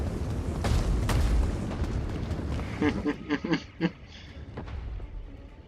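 Artillery fire in the video game Total War: Rome 2: heavy booming blasts and rumble, followed by a quick cluster of sharp cracking shots and a softer fading tail amid battle noise.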